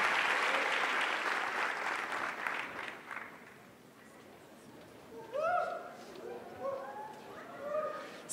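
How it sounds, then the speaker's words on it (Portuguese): Audience applause at a church gathering fades out over the first few seconds, followed by a voice speaking over the quieter room. "Um aplauso."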